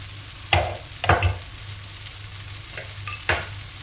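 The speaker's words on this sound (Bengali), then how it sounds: "এই জন্য ডিমটা ঝোড়া করে নিচ্ছি।" Eggs being beaten in a bowl for a home-cooked meal, heard as a handful of sharp utensil clinks and scrapes in two loose pairs with quiet gaps between, close and moderately loud.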